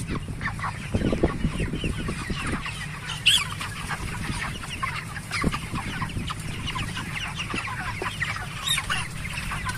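Broiler chickens about 35 days old, in a two-level poultry house of some 6,000 birds, cluck and chatter continuously as a dense, close flock, with occasional louder squawks over the steady din.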